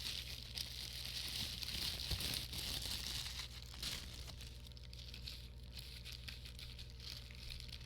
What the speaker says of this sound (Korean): 다시 나머지 비닐을 풀어주세요.